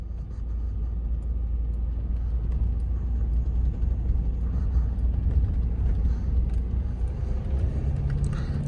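A Volkswagen Amarok pickup creeps slowly downhill off-road on a snowy track, its low engine rumble and tyre noise steady and close inside the cab throughout.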